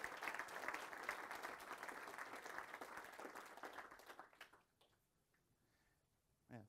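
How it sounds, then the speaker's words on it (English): A conference audience at FOSDEM, the open-source developer meeting, gives the organizers a burst of applause that holds loud for about four seconds, then fades to a few scattered claps and quiet. "So please applaud for them now."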